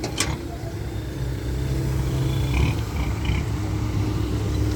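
Remapped Fuso dump truck engine roaring nearby at a dirt excavation site, a steady loud low rumble throughout with a brief sharp noise at the start.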